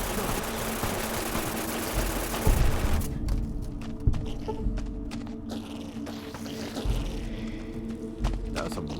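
Gunfire in Fallout New Vegas, played with the DUSTy Roads mod while fighting ghouls: a dense, loud burst of rapid shots for the first three seconds, then scattered sharper cracks over low rumbling game ambience.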